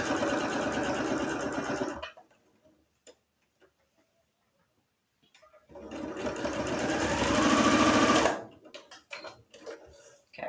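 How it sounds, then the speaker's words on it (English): A sewing machine hums and ticks steadily as it stitches a pajama pant leg seam from top to bottom. It runs for about two seconds, falls silent, then runs again for a longer stretch. "I like to start at the top and sew all the way down and do the same on both leg pieces"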